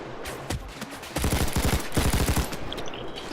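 Brenner light machine gun firing in the video game Payday 2, rapid sustained bursts of loud automatic gunfire, close and dense, with a brief single shot before the main volleys.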